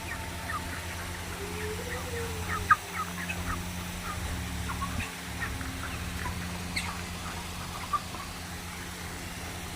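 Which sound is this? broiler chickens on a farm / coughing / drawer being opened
broiler chickens on a farm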